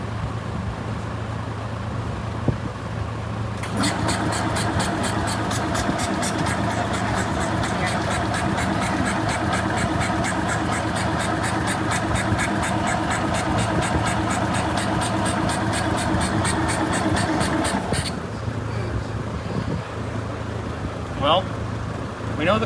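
A small vintage Isetta microcar engine, long neglected and recently given fuel, is cranked with a little throttle, starting and running in a steady rapid chatter for about fourteen seconds, loud and close, with people talking nearby throughout.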